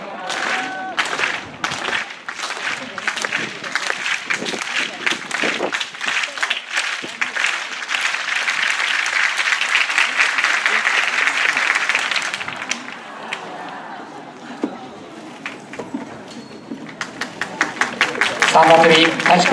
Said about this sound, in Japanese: 大きな手拍子の中